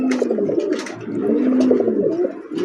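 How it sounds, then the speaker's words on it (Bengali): A big racing pigeon on a pigeon farm coos in a steady, rolling rhythm at close range, with soft overlapping bird calls and no talk. "পায়রাটায় ডাক দেখেন, পায়রাটা বুঝছেন"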